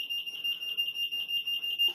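Shrill electronic beeping from a GME data radio base buzzer set off by burglar alarm motion detection, a rapid unbroken run of pulsed high tones at an even rhythm, clear and close, ending in a small click.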